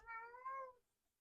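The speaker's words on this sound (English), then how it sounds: "That's my cat having lost the spring." A house cat that has lost its spring toy gives a single drawn-out meow, close and clear, trailing off into near silence.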